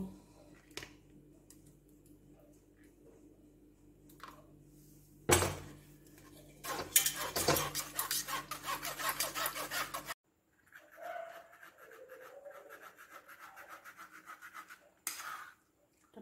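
Blended tamarind, mango leather and date chutney paste pushed through a metal strainer, with scraping and rubbing bursts and clinks of a spoon against the mesh and bowl, close and fairly loud.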